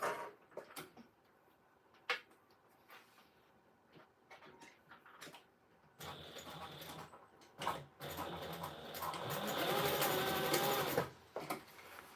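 A sewing machine stitches a handbag in short bursts, with quiet taps and handling noises between them and a longer, louder run of rapid mechanical stitching near the end.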